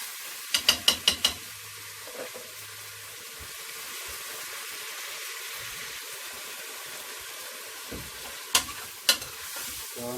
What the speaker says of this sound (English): So I'm just stirring the turkey neck just for 2 minutes before I add any water in it.